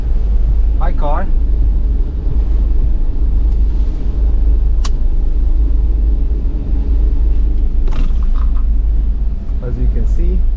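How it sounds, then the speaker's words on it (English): A steady, loud, low engine rumble from a van aboard a ferry crossing from Sweden toward Copenhagen, with faint voices briefly heard over it. "Car."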